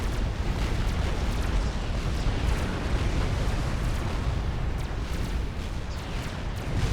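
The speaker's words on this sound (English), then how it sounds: "the fatty barrage from Psycho is continuing as it creeps towards Kavai's base" An artillery barrage in the real-time strategy game Supreme Commander: Forged Alliance, a dense, unbroken roar of overlapping explosions and rumbling booms that stays loud and steady throughout.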